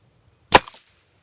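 A single sharp crack from a .177 spring piston air rifle fired once nearby, followed by a short mechanical twang and rattle that fades within a quarter second, with quiet before and after.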